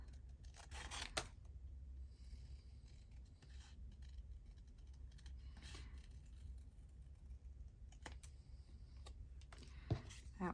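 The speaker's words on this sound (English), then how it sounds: "Let me just cut them out as best I can. I'm not very good at cutting out circles or oval shapes." Scissors snip through paper, cutting out oval shapes for handmade journals; soft, sparse clicks and rustles come in a few bursts, close and quiet, with no talking.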